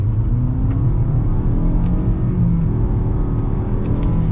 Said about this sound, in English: We are going to be getting our acceleration here with this Altima.